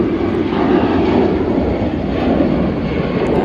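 An easyJet airliner's engines roar steadily and loudly at Manchester Airport, a dense continuous jet rumble with no break across the few seconds.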